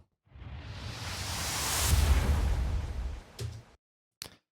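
A broad noisy synth swell in a metal mix rises steadily and peaks, then cuts off, followed by two short bursts; no talking.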